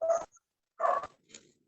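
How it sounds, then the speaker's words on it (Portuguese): A dog barks two distinct times with a quieter third yelp, sharp isolated barks in a quiet indoor room during an online class, no talking over them. "tem um cachorro latindo, gente, querendo participar da aula"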